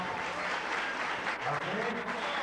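A church congregation at a missions service claps in a sustained, dense wash of applause, with voices murmuring and calling out underneath.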